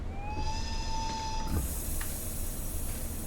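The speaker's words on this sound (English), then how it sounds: "Releasing locomotive brake." Brake release on an ÖBB 1020 Krokodil locomotive in a Train Sim Germany Mittenwaldbahn run, a rising whistle-like tone over steady rumble, then a sudden broad airy hiss that persists to the end.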